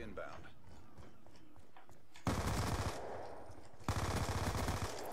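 Gunfire in a Free-for-All match of Black Ops 2 on the Yemen map comes in two sharp automatic bursts over quieter background game noise, while a voice talks through the clip.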